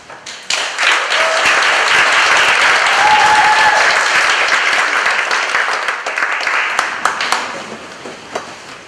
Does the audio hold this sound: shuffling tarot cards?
no